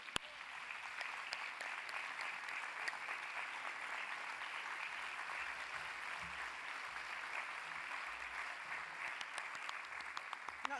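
Conference audience applauds after a keynote talk, a faint, even wash of many hands clapping that holds steady throughout, heard from a distance.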